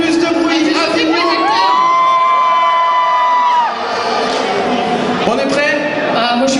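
A convention panel audience cheers and shouts loudly, with high sustained yells and whoops riding over a dense crowd roar that holds steady throughout.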